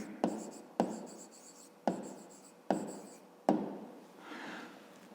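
Pen strokes scratch across paper close up while a fifth-grade math problem is solved, five distinct taps and strokes at a steady pace, with no talk.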